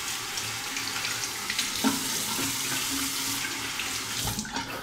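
Hot water running steadily from a tap into a sink during a shave, a continuous splashing rush with a few small knocks, fairly close.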